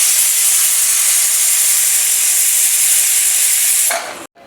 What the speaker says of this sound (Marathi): वाफ गेलेली आहे.